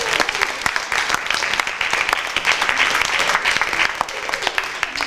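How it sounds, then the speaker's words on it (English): A festival audience at a Kwanzaa celebration claps enthusiastically, with sustained applause of many hands throughout. "Give yourself a round of applause."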